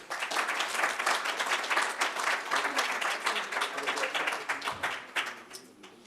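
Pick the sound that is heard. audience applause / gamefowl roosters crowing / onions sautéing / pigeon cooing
audience applause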